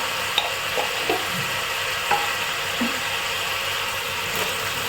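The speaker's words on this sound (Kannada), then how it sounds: "ಒಂದು ಸ್ವಲ್ಪ ಜೀರಿಗೆ ಪುಡಿ ಹಾಗೆ ಒಂದು ಸ್ವಲ್ಪ ಅರಿಶಿನ ಇಷ್ಟು ಹಾಕಿ ಫ್ರೈ ಮಾಡ್ಕೊಬೇಕು" Meat frying with cumin powder and turmeric in a pan makes a continuous, moderate sizzle, broken by scattered light scraping and stirring taps.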